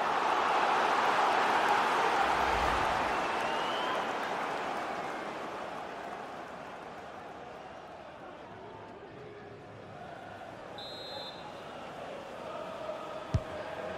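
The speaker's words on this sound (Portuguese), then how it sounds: "E a torcida mostra sua força." A stadium crowd in the video game FIFA 22 roars during a Premier League match against Nottingham Forest, a loud, steady wash of cheering that gradually fades, with a sharp click near the end.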